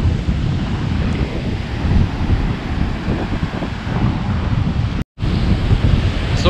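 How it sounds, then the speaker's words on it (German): Ocean waves at Fort Lauderdale Beach under a red-flag surf warning, a continuous loud rushing roar of surf mixed with heavy wind buffeting the microphone, with a brief dropout near the end and no talking. "das ist Fort Lauderdale Beach. Hier, voll die Wellen"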